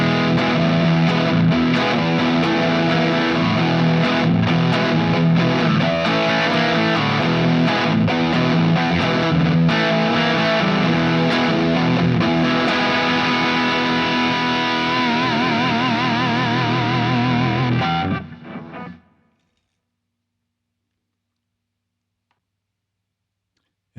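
A Hamer U.S.A. Mirage electric guitar plays through its bridge pickup with heavy distortion, loud and sustained with strummed chords for about eighteen seconds before cutting off abruptly into silence.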